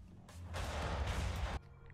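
A video game gunshot blasts a gate open, a loud sustained crashing burst with heavy low rumble lasting over a second and then cutting off sharply, with quieter background noise around it.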